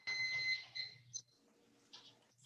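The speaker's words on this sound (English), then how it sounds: "And there's my timer." A kitchen timer beeps in a home kitchen, a few high electronic tones sounding close and fairly loud at first, then weaker and more broken over quiet room noise.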